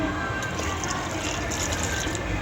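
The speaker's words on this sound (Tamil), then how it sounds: "சாம்பாருக்கு தேவையான தண்ணி அதில் ஊற்றிட்டு நல்லா கிண்டி விட்டுட்டு" Water pours into a pot of lentils and vegetables being prepared for sambar, a continuous close splashing fill that runs unbroken for the whole short moment.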